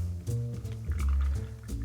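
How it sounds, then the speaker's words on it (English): A red wine and milk mixture being slowly poured into a cocktail glass for a clarified New York Sour, with close, wet liquid pouring and gurgling sounds and a few small splashes. "grab your fancy red wine and milk mixture that looks quite nasty actually. And you want to slowly pour this in here as well."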